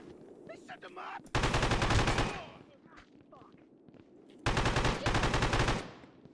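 Gunfire in the video game Pigface, with two long bursts of rapid automatic fire, loud and close, separated by a quieter stretch of game sound with faint voice-like noises.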